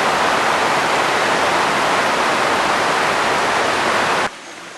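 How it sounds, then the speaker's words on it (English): Heavy tropical rain pours down in Guyana as a loud, dense, steady roar of hiss and rumble, then cuts off abruptly near the end to a quieter background. "it pours like this, and it makes it very difficult to travel"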